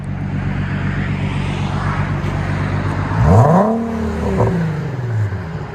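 A 2014 Infiniti Q50 V6 with a Borla Pro XS dual exhaust and muffler delete idles with a deep steady rumble, then revs sharply to a loud rising roar before dropping back to idle, close and alone.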